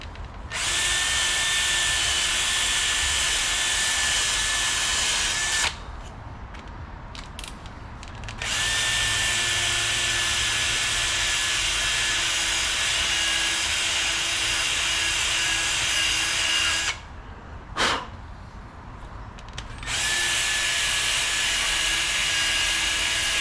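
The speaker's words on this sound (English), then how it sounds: "I reckon if I just get a nice sanding bit on the die grinder" High-pitched whine of a die grinder with a sanding bit working on a Dingo 950 mini skid steer, running in long loud stretches with brief pauses and a slower spin-down between them.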